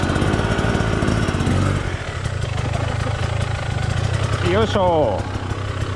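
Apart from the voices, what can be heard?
engine being started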